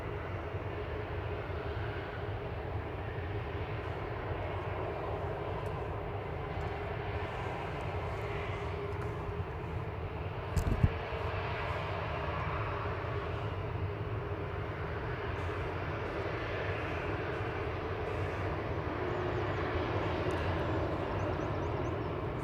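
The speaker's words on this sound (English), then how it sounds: "Ryanair to Venice lined up, 9HQBH, flight 2898." A Ryanair airliner lining up for takeoff at Manchester Airport produces a steady, distant jet engine roar that holds evenly throughout, with one brief sharp knock partway through and no speech.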